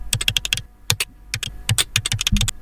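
Synthetic computer keyboard typing created by ElevenLabs AI: rapid clusters of sharp, close key taps with short gaps between bursts, ending in a slightly heavier thock, heard alone and nearby.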